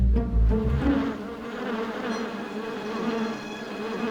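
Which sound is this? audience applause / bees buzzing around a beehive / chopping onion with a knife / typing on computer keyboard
bees buzzing around a beehive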